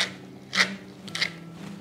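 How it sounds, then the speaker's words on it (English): Black pepper ground into beaten eggs for a make-ahead brunch dish, two short gritty grinding twists heard up close over a low steady background hum. "Then I want to whisk in a pinch of salt, some grinds of black pepper,"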